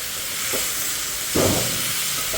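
Bitter gourd (karela) stirred and frying in a pan, a soft steady sizzle with a few brief scraping stirs, one louder stir in the middle, close and alone.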